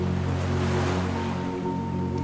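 Ocean waves wash onto a white-sand beach as a soft, continuous surf hiss, blended beneath a sustained, calm musical drone.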